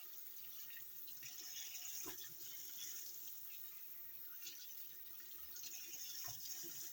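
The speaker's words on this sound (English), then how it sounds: "Run them under some cold water." A faucet runs cold water over fish in a continuous, even stream, with a couple of soft knocks in the sink.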